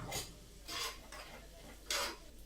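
Chopped red peppers, onions and chorizo cooking in a pan, heard as a few scattered stirring scrapes and clinks of a utensil against the pan over a faint background, with no talk.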